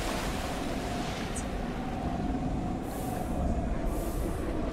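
A splashing water effect on a roller coaster in the Planet Coaster video game, at a park called Palm Island, gives a loud, continuous rushing wash of water that holds steady throughout with a couple of brief hissing bursts.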